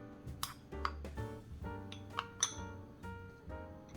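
Brown sugar and cinnamon being mixed in a bowl for Bisquick cinnamon rolls, heard as repeated light clinks and taps of a utensil against the bowl in an irregular rhythm, close and moderately loud, with no talking.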